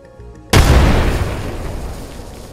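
An arc star grenade detonates in Apex Legends with one loud, sudden blast whose rumble slowly fades, following a short quiet stretch before the hit.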